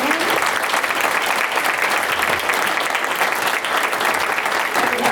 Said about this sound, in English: So if I could ask for a round of applause for our panel and Dan.